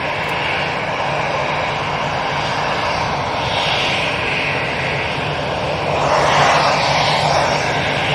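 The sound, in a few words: EasyJet airliner taking off from Manchester Airport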